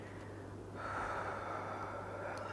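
A long, soft exhale during a yoga stretch on a new moon class, rising after a quiet start and holding steady, close and breathy with no talking.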